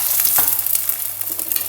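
Egg parotta sizzling in a hot pan as it is flipped, a soft crackling fry with a couple of scraping stir sounds, fairly quiet and close, no talking.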